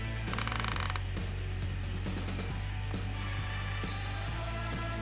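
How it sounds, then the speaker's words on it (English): A Fish Mate P21 automatic pond fish feeder is turned around, giving a steady mechanical whir with gear-like ratcheting clicks, close and continuous throughout. "To adjust the feed quantity, I turn the feeder around so that nothing can fall out."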